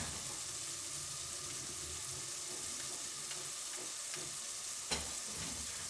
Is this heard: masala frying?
yes